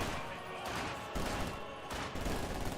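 Gunfire in the video game Company of Heroes 2, with flak half-track and rifle squads trading shots in dense overlapping bursts and rattling volleys, surging in waves across the battle.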